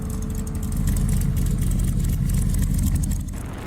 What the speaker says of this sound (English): That thing's idle is loud.